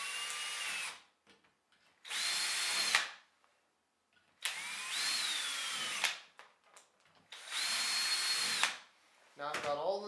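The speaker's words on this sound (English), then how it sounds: "I'm going to drill through the zip tie hole" Four bursts of a power drill whining as it bites through 3D-printed plastic zip tie holes, each lasting about a second or two with quiet pauses between.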